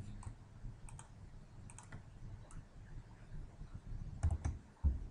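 Someone types on a computer keyboard in short uneven bursts of soft clicks and taps, fairly quiet and close, with a couple of heavier key thumps near the end and no talking.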